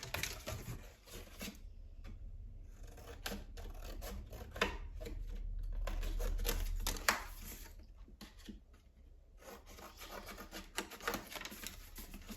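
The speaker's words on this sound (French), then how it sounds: "Et je coupe." Scissors snip through paper for a handmade scrapbook advent calendar, a string of soft close rasping cuts and rustles at a low level with short pauses between strokes.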